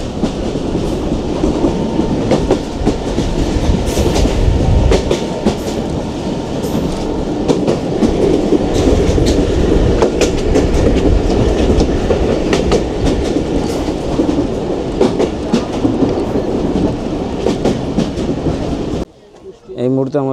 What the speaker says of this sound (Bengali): ট্রেন এখন জোরে চলতেছে,